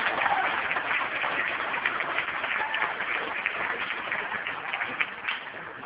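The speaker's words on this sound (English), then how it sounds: "Could you give all the volunteers a huge round of applause?" Audience applause for festival volunteers at a science festival domino computer event, a steady dense wash of clapping that holds evenly throughout at moderate level.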